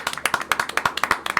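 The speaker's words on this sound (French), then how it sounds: "on peut applaudir ça." A small group claps in a classroom-style setting, a quick uneven run of close, crisp handclaps lasting barely a second and a half.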